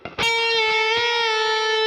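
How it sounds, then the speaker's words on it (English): Distorted electric guitar from a pop song: a half pre-bent note is plucked, then released and sustained, ringing loud and alone after a brief picked lead-in. "You're going to pluck it and release. Bend it up and release again."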